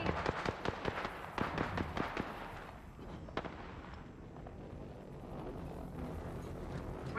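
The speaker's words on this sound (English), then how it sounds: "They're shooting at me!" Gunfire in the battle royale game Apex Legends, a burst of rapid, sharp shots close by in the first few seconds, then a single crack and continuing noisy combat ambience.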